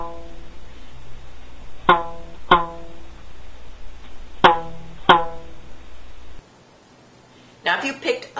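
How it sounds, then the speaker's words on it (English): A homemade violin built from a milk carton sounds four short, twangy notes in two pairs with rests between, over a low steady hum, then brief speech follows after a pause. "Here's what it sounds like on my milk carton violin."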